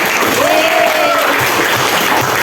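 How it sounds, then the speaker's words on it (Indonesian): Steady loud applause from a classroom of students clapping for their classmates, a continuous dense patter of many hands with a brief voice-like tone rising over it early on. "Tepuk tangan dulu buat teman."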